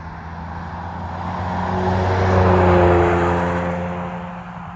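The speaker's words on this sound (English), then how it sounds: "You hear this thing drive by, especially if it's wide open throttle or close to wide open throttle." A Ford Explorer ST fitted with a Thermal R&D exhaust drives past near wide open throttle, its deep engine drone swelling to a loud peak midway and then fading as it moves away.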